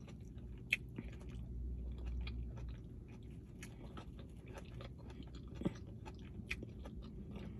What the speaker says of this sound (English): I do some of my chewing on the front of my teeth